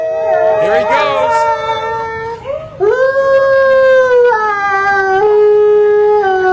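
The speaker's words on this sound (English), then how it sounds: "We're going to see if we can hear his beautiful Arctic wolf howl." An Arctic wolf lets out long, loud, sustained howls, rising and then holding steady pitch, with shorter wavering vocal sounds overlapping near the start.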